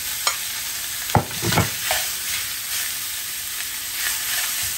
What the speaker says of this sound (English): I'm pretty much going to saute this up, guys, and pretty much render this bacon down.